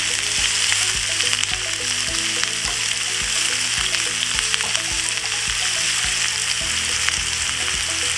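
Garlic and onion fry together in a pan with cumin seeds, producing a loud, steady close-up sizzle that runs unbroken, dotted with small crackles and light stirring taps.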